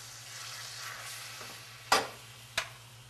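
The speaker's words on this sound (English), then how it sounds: "We're going to scrape the pan with a silicone spatula, temperature resistant." Pan sauce simmering for a boneless ribeye roast, a soft steady sizzle with two sharp scrapes of a temperature-resistant silicone spatula against the pan, no talking.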